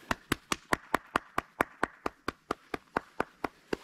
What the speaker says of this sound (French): applaudissements de tous les fans.